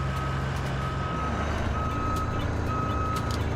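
Steady repeating reversing beeps from a bulldozer in the RoadCraft game, an evenly spaced warning tone over a constant heavy engine rumble.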